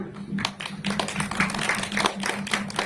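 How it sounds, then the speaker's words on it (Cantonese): An audience claps for a film team at a screening event, short uneven bursts of applause over a low background hum, moderately close. "我哋俾大嘅掌聲歡迎我哋 Gamer Girls 團隊先好嘛？"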